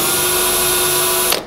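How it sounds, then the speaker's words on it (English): Steady power drill whine boring a pilot hole into the sheet-metal roof of a 1960-66 Chevy truck, running continuously at close range and then stopping abruptly near the end. "get a pilot hole, make sure it's deep enough so that when you're drilling this, it doesn't walk around on you"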